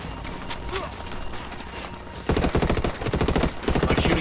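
Rapid automatic gunfire bursts out in the shooter game Ghost Recon: Wildlands, fast rhythmic cracks arriving in two loud strings after a quieter stretch of game ambience.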